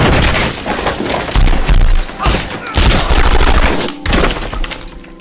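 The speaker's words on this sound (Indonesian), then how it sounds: "Pengawal yang menerobos tembok langsung ditembak mati oleh Smith." Rapid bursts of film gunfire as guards are shot dead, loud and dense volleys with crashing impacts filling the scene, no talking over it.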